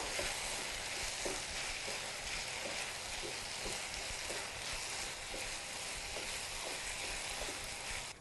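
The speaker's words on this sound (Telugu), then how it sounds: "ఇప్పుడు ఈ ఉప్పు కారం బాగా కలిసేలాగా కలుపుకోవాలి కర్రీలో" Salt and chili powder are stirred into a broad bean and tomato curry, a continuous crackling sizzle with soft rhythmic scraping strokes throughout, steady and fairly close.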